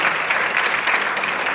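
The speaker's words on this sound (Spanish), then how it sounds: "Un fuerte aplauso para ellos" A concert audience at a youth symphony orchestra's closing performance breaks into brisk, full applause, a dense and fairly loud patter of many hands sustained throughout with no speech.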